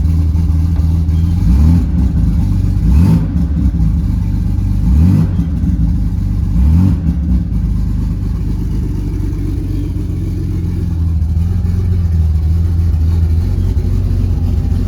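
A Porsche 930 Turbo slant-nose track car engine runs loud and close, idling with a deep steady rumble and a few brief revs rising and falling.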